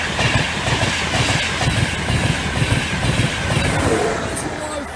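A Class 82 locomotive hauls a train past a level crossing, giving a steady, loud rumble with rhythmic clickety-clack of wheels over rail joints, close by and sustained throughout.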